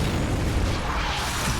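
A frag grenade in Gears of War 3 goes off as a loud, rumbling explosion, a continuous roar of noise that fills the whole short moment.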